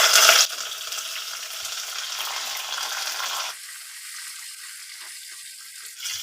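Curry leaves frying in hot oil in a pan over a low gas flame, a steady close hiss and crackle that sharply flares at the start, then settles into a softer sizzle.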